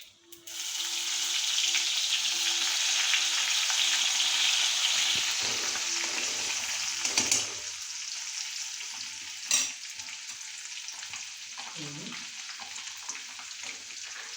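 Garlic hits a hot frying pan and sizzles loudly, a bright steady hiss that softens midway, with a few stirring scrapes and knocks and a low hum underneath.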